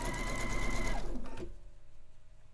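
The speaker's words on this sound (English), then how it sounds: "Sewing up to my pin." A sewing machine stitches a seam up to a pin with a fast, steady mechanical whir for about a second and a half, then stops, leaving a faint hum behind.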